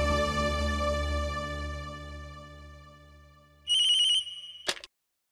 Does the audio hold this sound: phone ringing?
yes